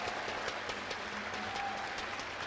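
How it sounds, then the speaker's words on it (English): Audience applause fills a hall at the Gamescom 2012 StarCraft II esports finals, a steady, dense patter of clapping with faint crowd murmur underneath. "Please, big round of applause for Jared."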